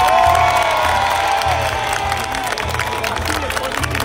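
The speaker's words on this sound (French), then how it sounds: "Je vois que Richard ne manque jamais de se faire applaudir." A crowd at an outdoor knights' tournament claps and cheers loudly, with shouts and lively babble over a low rhythmic drone throughout.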